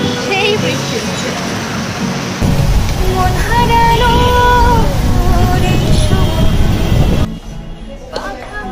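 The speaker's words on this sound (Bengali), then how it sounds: "সেই বৃষ্টি হচ্ছে" Rain falls steadily at Rabindra Sarovar, a broad hiss that swells louder midway and then drops away near the end, with voices and outdoor activity mixed underneath.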